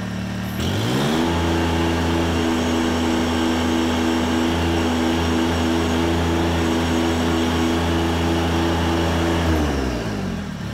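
A compact tractor's engine holds at a steady high rev and drones loud and close for about ten seconds while its front loader strains to lift 1,100 pounds without curling. The tractor is a Kubota BX or a Deere 1025R.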